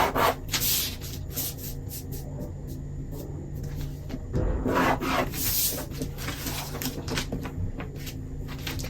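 Pencil drawing a line against a ruler on drafting paper for a dress pattern, a continuous close scratchy rubbing with small shifts and taps as the ruler is held and the stroke carries across the sheet.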